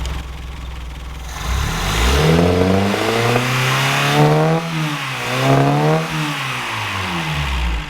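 Close up, a car engine runs, then revs repeatedly in rising and falling waves over a steady idle, loud and without talking. The car has no radiator fitted.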